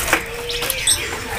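A kopi-kopi bird of the tembakan type calls at a bird kiosk in the Pramuka market, giving a few short, high chirps over a busy, noisy background.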